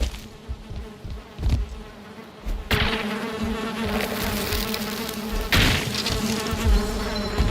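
A bee in a video game buzzes steadily with a droning hum, swelling louder at a few moments as it moves close, then easing back, heard alone without talk.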